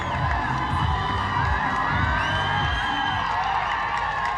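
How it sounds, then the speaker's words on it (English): A crowd at a police SWAT challenge event cheers and whoops continuously, a dense, distant roar of voices and shouts that holds steady throughout. "and look at them cheering"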